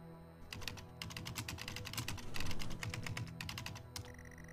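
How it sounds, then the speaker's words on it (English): Rapid, continuous clatter of keys on a computer keyboard, struck in quick irregular bursts, close and fairly loud over a low ambient hum, with no talking. "Rob is typing."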